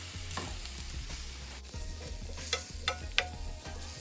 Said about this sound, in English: It's sizzling hot.